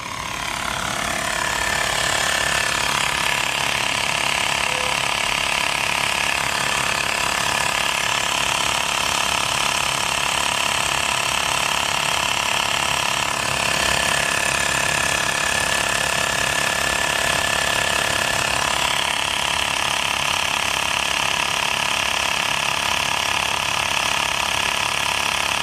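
A Xiaomi Mi portable air compressor runs continuously while inflating a motorcycle tyre, giving a loud, steady mechanical buzz and rattle that holds unchanged throughout.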